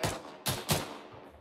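Gunfire in a military video game: three sharp, separate shots at close range, spaced a fraction of a second apart, each decaying quickly, followed by a faint tail of ambience.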